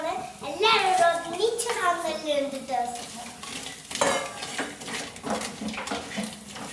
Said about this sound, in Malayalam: നന്നായിട്ട് അങ്ങോട്ട് മിക്സ് ചെയ്ത് കൊടുക്കാം